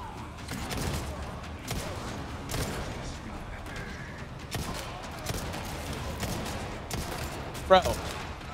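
Scattered gunshots in Resident Evil 4, several sharp separate bangs spread across the moment over a steady game background, with a brief squawking cry near the end; voices talk throughout.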